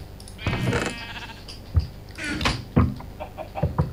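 Sheep bleat in a video game, several separate close bleats spread across the moment, mixed with short knocking or clattering sounds and no talk.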